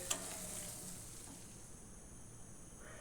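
Tomato and ground spice paste with onion paste sizzles softly in a pan for a prawn malai curry, a steady quiet frying hiss with a brief sharp clink near the start.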